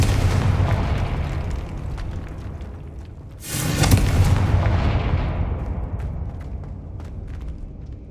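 A Confringo explosion spell from the game Hogwarts Legacy bursts midway as a loud, sharp blast that rolls off into a fading rumble over a steady low game ambience.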